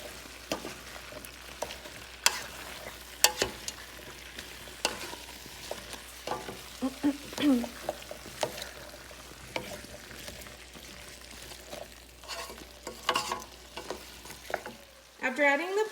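Potatoes are stirred with ground pepper and oregano in a sizzling pan, with a steady frying hiss under intermittent scraping and clinking of a utensil, close and with no talking.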